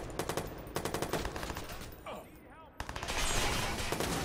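Rapid bursts of gunfire from a Watch Dogs firefight ring out in clusters, loud and close, mixed with game effects while a player's voice talks over the action.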